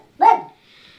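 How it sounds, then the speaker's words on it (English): A pet dog barks once at the neighbors indoors, a single sharp, fairly loud bark that fades quickly into quiet. "our doggy barking at the neighbors"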